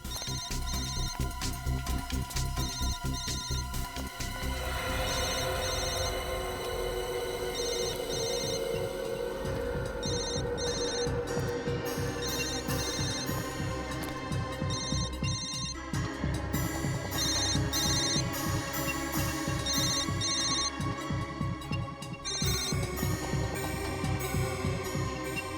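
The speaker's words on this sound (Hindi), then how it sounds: "Sir bell." A mobile phone rings in a TV crime drama scene, its melodic ringtone looping again and again for the whole stretch, loud and steady with no voices.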